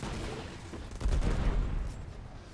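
Rapid booming explosions from a weapon in the video game Destiny, a dense rumbling burst of blasts swelling midway and then fading, loud and continuous with no talk.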